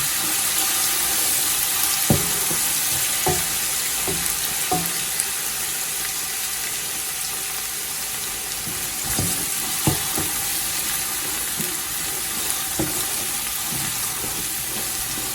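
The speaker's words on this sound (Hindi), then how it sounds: "हल्का सा हमने इसको फ्राई करना है, इनका कलर चेंज करना है।" Pasta and chicken fry in vegetable oil with a steady, hissing sizzle, broken by a few soft knocks of a utensil against the pan, close and continuous with no voices.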